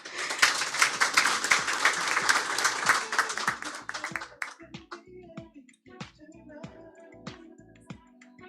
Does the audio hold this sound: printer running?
no